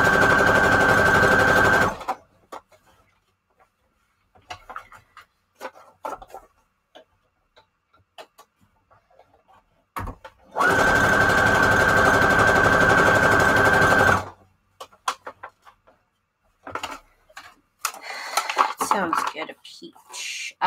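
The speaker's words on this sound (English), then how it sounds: "We're going to do a straight stitch now." A sewing machine runs a straight stitch through paper journal pages in two loud, rapid bursts, with people chatting in the pauses between them.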